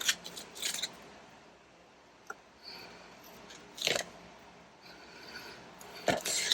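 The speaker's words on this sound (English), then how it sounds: "let me just grab another pair of scissors" Scissors snipping through paper or card during Tim Holtz journal crafting, a few crisp close cuts spaced apart with quiet handling noise between them.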